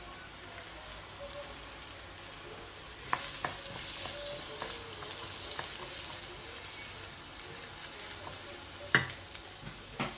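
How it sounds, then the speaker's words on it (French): Onions fry in oil in a pan with a continuous close sizzle. Occasional louder clicks and scrapes of stirring sound over the sizzle. "Je vais rajouter mes oignons. Que je fais revenir jusqu'à ce que devienne un peu doré."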